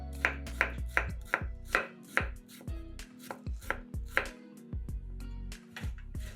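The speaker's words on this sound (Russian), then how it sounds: "Нарезаем кубиками огурец." Fresh cucumber being chopped into cubes with a knife on a cutting board, a steady series of close, crisp thuds of the blade hitting the board, with no voices.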